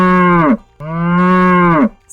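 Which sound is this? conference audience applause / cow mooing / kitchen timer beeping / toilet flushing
cow mooing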